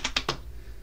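Three quick, crisp keystrokes on a computer keyboard, close and distinct, tapped in fast succession before trailing into quiet room hiss.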